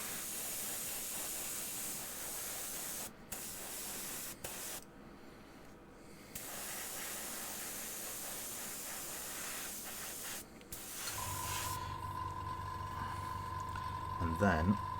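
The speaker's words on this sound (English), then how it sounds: "spray the base too" Spray primer hisses from an aerosol can onto model kit bases, long steady bursts broken by brief pauses, fairly close and loud, with a faint hum and clatter near the end.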